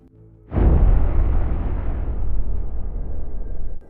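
Huge Beirut explosion rendered as a sound effect: a sudden loud boom after a brief quiet lead-in, then a dense, sustained roaring rumble that stays strong for several seconds before cutting off.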